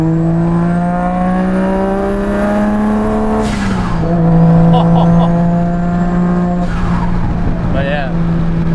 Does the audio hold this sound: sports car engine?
yes